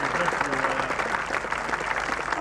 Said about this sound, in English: A big round of applause for your winner, Masami Hirosaka.